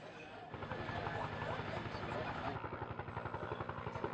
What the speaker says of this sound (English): It takes few trips for the helicopter to bring the people